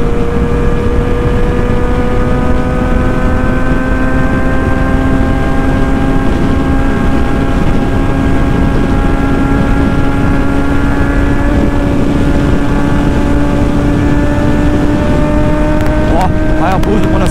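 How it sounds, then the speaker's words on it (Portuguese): A Suzuki Hayabusa motorcycle accelerates hard, its engine whine climbing steadily in pitch through the gears, loud and sustained over heavy wind rush, with a voice speaking faintly underneath. "Ó, Hayabusa quando acelera, ó."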